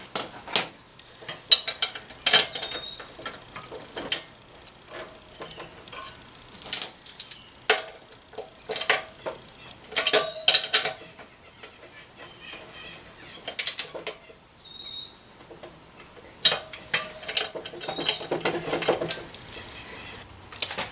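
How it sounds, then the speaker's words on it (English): Torque wrench or ratchet tightening bolts on a Honda CRF250L rear wheel, with scattered sharp metallic clicks and clacks in irregular bursts over a faint steady hum, no talking. "we'll go around and torque these bolts"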